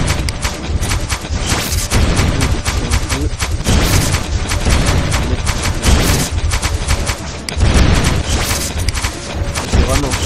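Rapid, dense gunfire and booming blasts from combat in the mobile strategy game Castle Clash, a continuous loud barrage of shots and explosions lasting throughout with no pauses.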